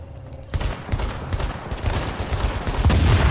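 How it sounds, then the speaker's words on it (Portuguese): Automatic gunfire in The Division as a player shoots at an enemy turret: dense rapid bursts of shots, loud and continuous, with a brief quiet lead-in. "Deixa eu pegar minha outra arma aqui, que ele já se afastou um pouco. Toma bala tu também, João."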